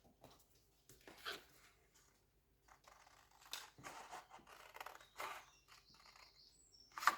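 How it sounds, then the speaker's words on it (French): Scissors snip through paper for a handmade album box, sounding as a few quiet, close, scattered cuts with soft handling noises between them. "Je vais couper là."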